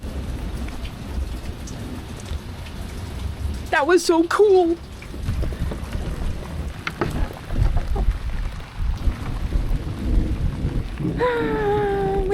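Rain falls steadily on a boat during a lightning squall, a constant close hiss with low rumbling beneath, while people talk and exclaim over it at times.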